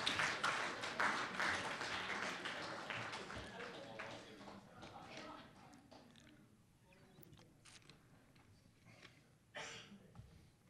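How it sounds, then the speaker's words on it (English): Applause after a poem reading at an honors college event, a small audience clapping briskly at first and then dwindling to sparse, faint claps, with voices in the room. "Give yourself an applause."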